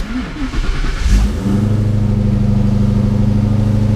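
A Coyote-swapped Fox body car turns over on remote start and catches, the V8 settling into a loud, steady idle close by after a brief cranking burst.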